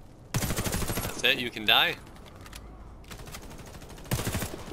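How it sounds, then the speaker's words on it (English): Bursts of rapid automatic gunfire in the shooter game Warface rattle at moderate loudness, pausing while someone speaks briefly over them, then a final burst rings out. "I'm getting shot by someone else."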